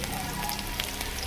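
Ginger, garlic and onion sauté in hot cooking oil for a Bikol-style bopis, giving a steady, close sizzle of frying with faint crackles and no talking.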